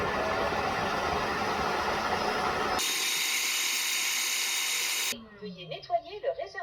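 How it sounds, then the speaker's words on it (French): Tineco Floor One S5 wet floor vacuum running its self-cleaning cycle, a loud, steady motor whine and suction roar that shifts pitch midway, then cuts off as a voice speaks. "Et ensuite, on va voir la partie aspiration, donc qui va nous ramener en fait toute l'eau sale qui est contenue en fait dans ce bac"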